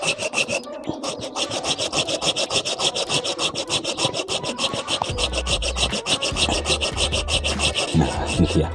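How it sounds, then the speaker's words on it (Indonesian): A Streblus asper bonsai stump being cut by hand, with a steady, loud, rhythmic rasping saw stroke repeating close up throughout, with a deeper thudding rumble joining partway through. "Nah ini kan saya potong teman-teman."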